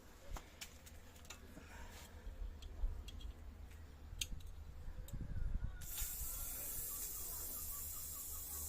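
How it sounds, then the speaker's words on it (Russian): An autoclave cooking buckwheat, rice and wheat porridge with meat vents its last pressure: faint ticks and clicks, then a steady loud hiss of escaping steam for the last few seconds. "Сейчас пробуем спускать последнее давление и открываем"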